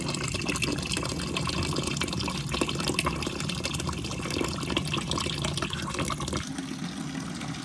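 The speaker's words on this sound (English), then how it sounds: "Let's flush it. Make sure the burner turns off on a low water condition." Water rushes and splashes steadily as a steam boiler's low water cutoff is flushed, a continuous gurgling flow with dripping, softening slightly near the end, no voices present.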